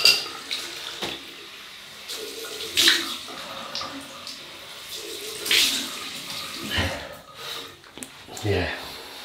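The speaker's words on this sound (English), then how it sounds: "Cold water rinse." Cold tap water runs into a sink for a post-shave rinse, a steady close splashing stream broken by a few brief louder splashes and clatters.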